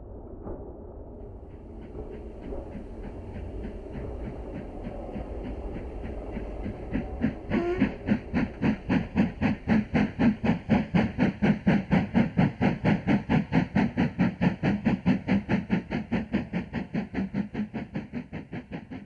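A steam-hauled train passes through Cheedale, building from a distant rumble to a loud, close run of rhythmic clickety-clack from the wagons and a steady hiss, the beat strong and even through the second half.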